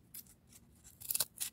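Scissors snipping a piece of a craft project made from puzzle pieces, a few short, crisp cuts close by, the last two louder, with no talking.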